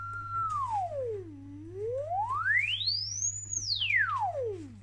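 A pure sine tone from a Brüel & Kjær 1024 sine-random generator sweeps smoothly down, then up to a high peak, then down again, steady and moderately loud over a faint mains hum.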